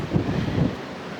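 Sea waves and gusting wind at a beach near Saundersfoot and Amroth, with a low rushing roar that swells twice and then eases, wind buffeting the microphone up close.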